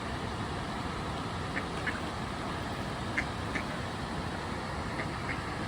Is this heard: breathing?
no